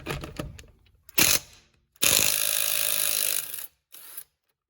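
A Ryobi 1/2-inch cordless impact wrench spins a deep socket in short bursts: a few quick clattering hits, a brief whir, then a longer loud hammering run of about a second and a half and a final short burst.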